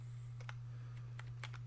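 Computer keyboard keys tapped while playing Watch Dogs 2, a handful of quiet, close clicks in an uneven rhythm over a steady low electrical hum.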